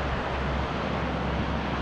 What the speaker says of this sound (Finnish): Piti tulla oikein ihastelemaan tätä pientä koskea, mikä tässä on.